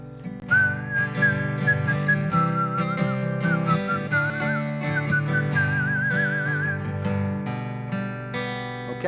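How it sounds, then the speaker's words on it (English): A person whistles a wavering melody with vibrato for several seconds over a sustained backing of instrument tones, then stops as the accompaniment continues. "Start by humming, whistling."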